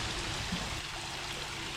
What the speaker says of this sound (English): they've also got this waterfall and fountain for the kids to play around with